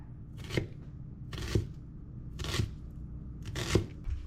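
A knife cuts through an onion in four evenly spaced chops, each with a sharp crunch and a thud on the board, about one per second.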